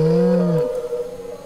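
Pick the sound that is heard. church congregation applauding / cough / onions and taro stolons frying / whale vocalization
whale vocalization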